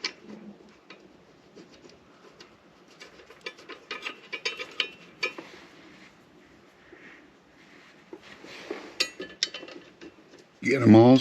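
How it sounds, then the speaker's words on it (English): Hand ratchet with a 1/2-inch socket tightening bolts on TAC bar brackets of a Ford F150, making quick bursts of clicking and metallic clatter at close range, with pauses between bursts and a louder knock at the end. "Then I got a 1/2-inch socket on my ratchet here, using the cobalts."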